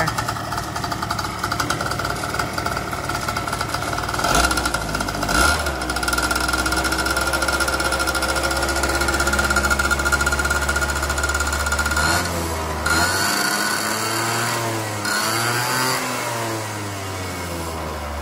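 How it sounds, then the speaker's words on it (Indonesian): A Suzuki V100 two-stroke scooter with a stripped exhaust runs close by, a loud raspy buzz that idles steadily, then rises and falls through several revs near the end. "Ni lah bunyi dia. Bunyi exhaust kopek eh."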